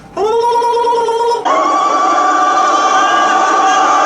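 Crowd of Arab women in a 1977 desert war film ululating, high trilling voices starting abruptly, then shifting into a broader sustained chorus of warbling cries at full volume.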